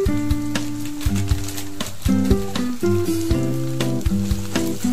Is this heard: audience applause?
no